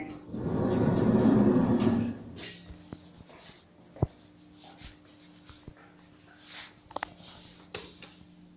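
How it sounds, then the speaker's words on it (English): Doppler lift doors open at the second basement level of a Supervalu supermarket in Balbriggan: a loud, rushing slide of about two seconds, then quiet hum with a few faint clicks and knocks. "Doors opening."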